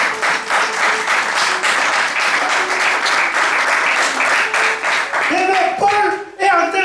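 A French-speaking church congregation claps and cheers for the Lord, a dense, sustained round of applause from a crowd that thins out near the end.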